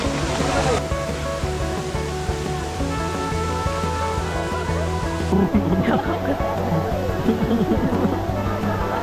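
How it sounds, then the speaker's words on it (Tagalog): Steady broadband rush of Daranak Falls in Tanay, Rizal, a waterfall at a nature park campsite, roaring continuously up close, with people talking over it. "Welcome to Daranac Falls!"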